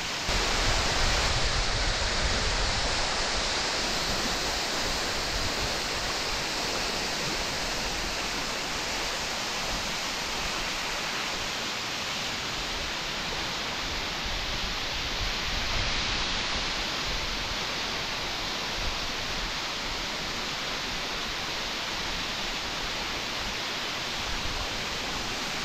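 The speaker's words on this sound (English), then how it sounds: "Now, I'm approaching the third and largest waterfall." The largest and most powerful of three waterfalls roars as a thick, unbroken wall of falling water, loud and close throughout with no talking.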